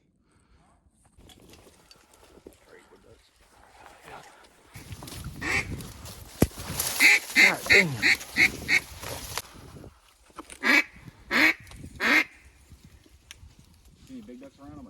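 Ducks quack in a short series of repeated calls during a Louisiana duck hunt after a blizzard, with hunters talking close by before and between the calls.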